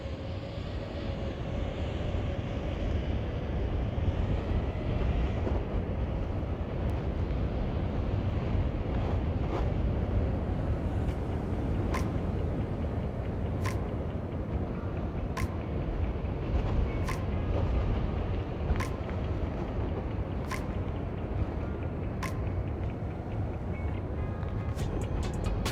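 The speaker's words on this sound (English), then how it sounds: "There's some more wind." Steady, loud wind roar buffets a GoPro flying on an Eachine Novice-IV drone, a continuous broadband rush that lasts the whole time, with faint ticking blips scattered through it and no talking.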